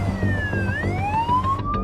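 An ambulance siren wails on the way to a freeway crash, a loud, sweeping rise-and-fall tone over engine rumble, close by and without talk.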